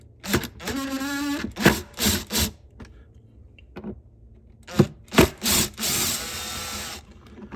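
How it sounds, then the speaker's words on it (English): A tool loosens the two bolts holding the air filter casing on an ECHO CS-620PW chainsaw, heard as several short whirring and grinding bursts separated by quiet gaps. "now I'm going to go through and remove the two bolts that hold the casing on for the air filter"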